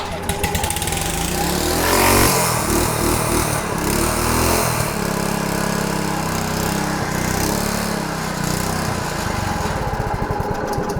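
A Honda 21-inch self-propelled walk-behind mower with a faulty carburetor starts and runs, its small engine buzzing loudly and unevenly close by, with a voice briefly heard.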